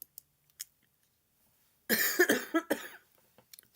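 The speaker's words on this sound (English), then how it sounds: "Forgive me for coughing." A couple of close, harsh coughs burst out after a quiet stretch, followed by faint clicks and rustling.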